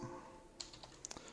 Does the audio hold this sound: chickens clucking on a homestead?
no